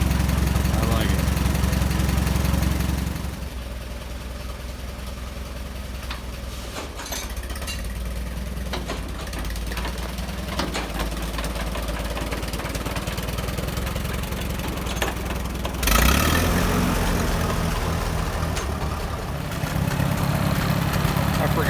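A restored WD45 tractor engine with a new clutch runs steadily and loud, idling with a low uneven chug, surging louder at the start and again partway through.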